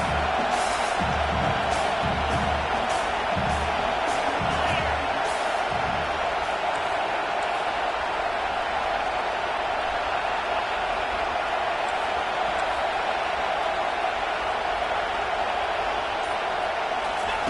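Stadium crowd noise from a college football video game, Boston College versus Clemson, a steady broad roar with some louder cheering swells early on, sustained throughout.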